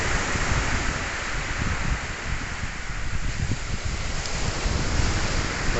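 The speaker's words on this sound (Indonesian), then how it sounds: "Seperti inilah kondisi pantai yang ada di Desa Nunapan Baru." Waves wash onto the beach at Nonapan Baru village, mixed with strong wind buffeting the microphone in a constant, loud roar with no speech.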